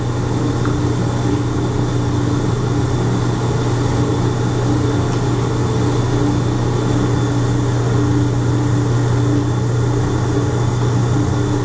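A 280,000 BTU clean-burn waste oil heater burner running with a steady, loud, low roaring hum and constant combustion rumble, unchanging throughout and with no voices.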